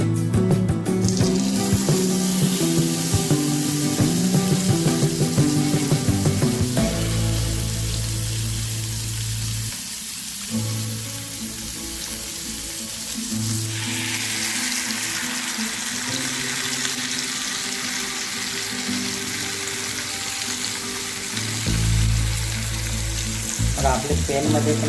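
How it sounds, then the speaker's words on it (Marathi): Pieces of thapa fish fry in hot oil in a pan, giving a steady crackling sizzle. A water tap runs with clattering in the opening seconds, and the frying fades and then swells again partway through. "तर आता आपलं तेल गरम झालेलं आहे पॅनमध्ये."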